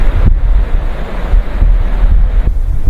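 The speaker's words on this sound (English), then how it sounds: "you can hear the water dropping down" Water pours steadily over the end of a dam at night, a loud continuous broadband rush with low rumble, buffeted by wind against the microphone throughout.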